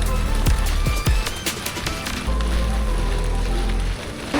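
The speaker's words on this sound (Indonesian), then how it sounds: "Sesi 3 hujan deras banget." Heavy rain pours down on a cyclist riding uphill on the road to Hambalang, a dense steady roar with a few sharp thumps early on.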